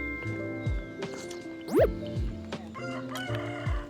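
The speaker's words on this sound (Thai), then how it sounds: "มีไก่ขันด้วยเหรอ" A rooster crows loudly and close by in a rural hill-country setting, one long rising-then-falling call among scattered clucks and other fowl sounds.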